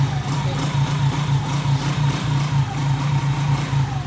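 A motorcycle engine, started by a DIY remote-control anti-theft system, runs at a steady mid-pitched idle with a low throbbing hum and slight rhythmic pulsing, close and continuous throughout.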